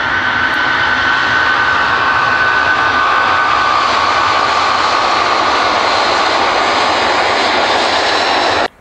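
The cooling fans of a Ridge Ryder 12 litre thermo cooler fridge whir loudly and continuously with a broad airy roar and a faint steady whine, then stop abruptly.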